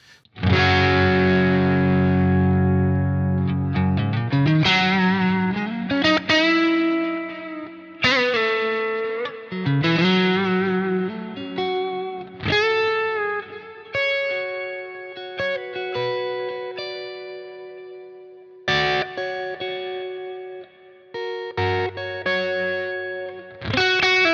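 Distorted electric guitar through cabinet impulse responses plays thick sustained chords and single-note phrases, full and heavy in the low end, with pauses between passages.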